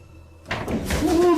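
A door opens with a sudden sliding rush and scrape after a moment of near silence, close and fairly loud, followed by a rising squeak as it moves.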